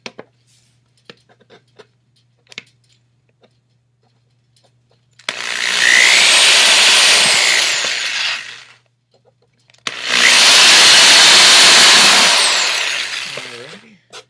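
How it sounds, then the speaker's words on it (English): A power drill whirs in two sustained bursts of a few seconds each, loud and close, separated by a pause with faint clicks and handling noises. "I'll sit here and I'll drill one of the potentiometers for you"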